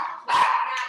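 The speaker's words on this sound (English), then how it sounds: "And we have a dog." One friendly, excited dog gives a single sharp bark close by, sounding brief and loud.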